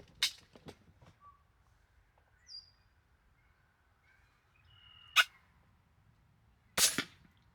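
Sharp, brief air rifle cracks fire at a muskrat in a cattail marsh, one faint early and two louder near the end, separated by quiet stretches with scattered bird calls.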